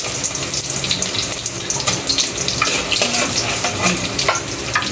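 Precooked hotdogs frying in a pan for lunch, a steady loud sizzle and crackle that holds throughout without pause.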